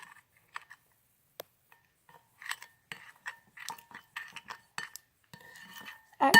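Mystery slime being stirred and mixed with a utensil in a bowl, giving scattered clinks, squelches and scrapes in short irregular bursts, quiet at first and growing busier, ending with a louder close clatter.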